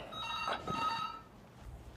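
A telephone rings with a short electronic tone, sustained over about a second, then fading, moderately loud indoors.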